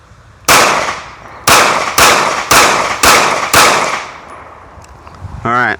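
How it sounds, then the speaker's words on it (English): Five pistol shots from a Taurus handgun fired at a steady pace of about one per second, loud and close, each crack ringing out on an outdoor range, with a brief faint sound at the end. "So we're going to aim center mass, five rounds."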